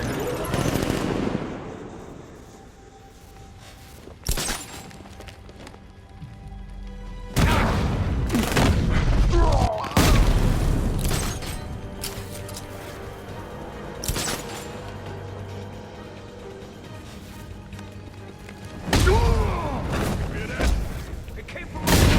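Gunfire fills a Batman: Arkham Knight fight as an enemy is shot down, with bursts of rapid automatic shots and heavy booms recurring through the scene, mixed with engine rumble and effects.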